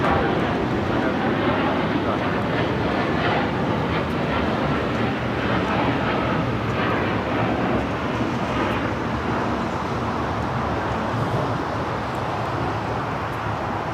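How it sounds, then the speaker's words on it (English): A Japan Airlines Boeing 787-9 Dreamliner taking off from LAX for Osaka produces a continuous broad engine rumble, fairly loud and steady, with voices talking over it. "That was Japan Airlines Flight 69 taking off to Osaka on the 787-9 Dreamliner"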